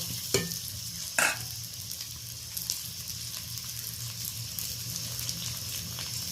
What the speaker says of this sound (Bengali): দুটো আলু আমি লম্বা লম্বা করে কেটে রেখেছিলাম, লবণ হলুদ দেব, দিয়ে লালচে করে একটু ভেজে নেব